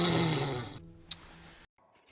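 A man snoring in his sleep at night, one long loud rasping breath followed by quieter breathing and a brief pause, close and alone.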